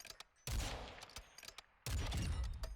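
Rapid-fire sniper rifle shots in a Call of Duty game, two loud bursts of closely spaced cracks separated by a brief lull, with faint shot reports in the quieter gaps.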